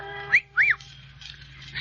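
A voice imitates a short whistle in two quick rising tones, the second slightly longer, fairly close and clear over a faint steady hum, with quieter breathy sounds after.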